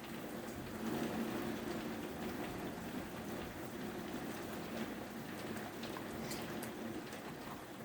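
Heavy rain pours steadily outdoors, a dense continuous hiss that holds the same level from start to finish with no speech over it.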